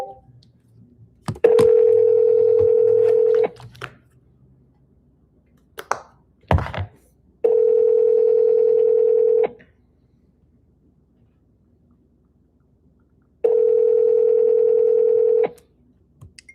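A telephone call goes unanswered: a few dial taps and thunks, then three long, steady ringback tones spaced several seconds apart, each about two seconds, clear and close with silence between.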